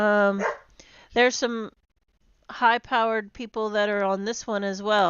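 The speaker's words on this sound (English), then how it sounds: "Sorry about the dogs." Dogs bark indoors in short bursts beneath someone speaking steadily during a rural political livestream, the yaps partly masked by his voice.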